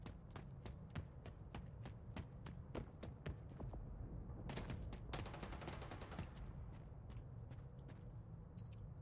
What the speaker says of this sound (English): I think he's just shooting his gun.